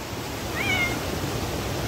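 A cat meows once, a brief thin cry in the middle, faint against steady rain and a broad wash of background noise outdoors in Hamirpur, Himachal.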